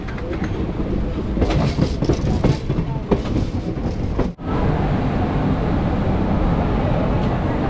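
Passenger train rolling through Deoria Sadar railway station, a steady loud rumble with clattering wheel clicks and scattered metallic knocks, crowd noise mixed in.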